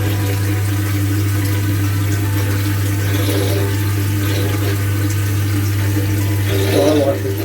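Water runs steadily and loudly into an aquarium during a water change in a fish-breeding tank setup, a continuous pouring rush with a constant low hum underneath and a brief splashy surge near the end.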